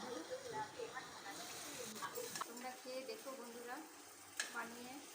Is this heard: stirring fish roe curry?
yes